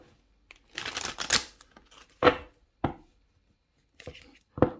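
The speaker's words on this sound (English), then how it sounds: "I'm going to shuffle one more time." A deck of tarot cards is shuffled in a quiet room: a quick papery riffle burst, followed by several soft, separate taps and flicks of the cards.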